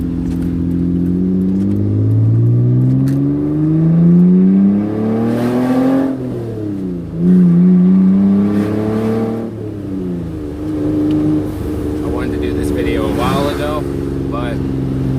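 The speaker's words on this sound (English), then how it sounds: "I love this car and I love the sound it gives." A Mitsubishi Eclipse engine revs up and down repeatedly while driving, loud and close from the driver's seat, with rising and falling pitch sweeps throughout.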